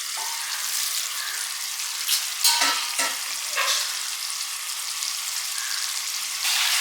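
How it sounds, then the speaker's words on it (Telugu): Chicken curry with spinach (palak) sizzling and frying steadily in a pan, with a few louder stirring scrapes partway through; no one talks. "ఐదు నిమిషాలు చికెన్ ఉడకనిచ్చానండి నేను"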